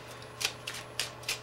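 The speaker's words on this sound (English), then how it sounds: "I was gonna shuffle through the deck" A deck of playing cards being shuffled and flicked through during a card trick: four crisp, papery riffling bursts, close and clear, with no talking.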